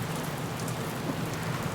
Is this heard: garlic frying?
no